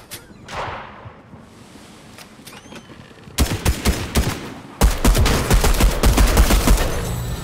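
Pistol fire in the video game Fortnite, with scattered faint cracks early on, then dense, loud volleys of rapid shots from about three seconds onward, overlapping in quick succession.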